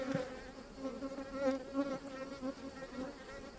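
Honeybees swarming around an opened hive during a honey harvest, a dense, continuous buzzing drone with wavering pitch as bees fly near and past; steady and fairly soft, with no voices.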